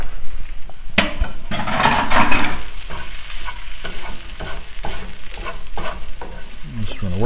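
A cauliflower pizza crust mixture with cheese and garlic is worked around a hot pan, giving steady loud sizzling and frying with repeated scraping stirs and occasional utensil knocks against the pan.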